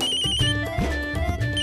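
A mobile phone ringtone plays a short, steady electronic melody with tonal notes, clear and fairly close, and no one talks over it.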